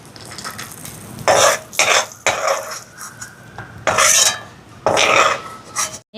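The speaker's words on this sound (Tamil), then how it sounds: "இதை வந்து இந்த நெய்யில் வறுத்தெடுப்போம்." Chopped cashews are stirred and roasted in ghee in a pan, a series of loud close scraping strokes with a sizzling hiss underneath, with short gaps between strokes and no talking.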